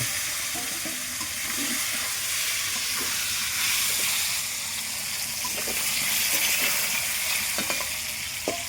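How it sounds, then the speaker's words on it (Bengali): Potatoes fry in a pan with a loud, continuous sizzle and crackle close by, with a few faint clinks of utensils and no talking. "এইদিকে আলুটা ভাজা করে নেবো আমি"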